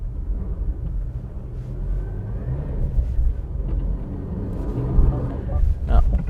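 A medium SUV sits on a roller rig during an off-road traction test, its engine giving a steady low rumble that swells slightly as the throttle opens, with a voice nearby.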